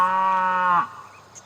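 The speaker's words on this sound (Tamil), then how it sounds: "நம்ம இதுல மாடு தெரியுது" A single cow moos in the Planet Zoo simulation game, one clear, loud, drawn-out low call lasting under a second before fading into near silence.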